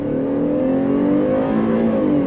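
A 2023 Chevrolet Traverse RS SUV with a 9-speed automatic and all-wheel drive accelerating on throttle, a steady, fairly loud engine drone rising smoothly in pitch from inside the cabin.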